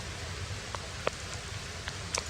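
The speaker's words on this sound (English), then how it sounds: "it's just going to be drizzle, I think, until tomorrow" A light drizzle falls on a winter camp with no wind, making a soft, steady hiss with a few scattered, faint drop taps close by.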